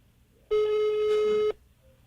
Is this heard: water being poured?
no